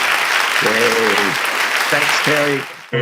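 A Rotary Club audience gives loud, sustained applause for Terry after his presentation, while someone speaks briefly over the clapping before it stops.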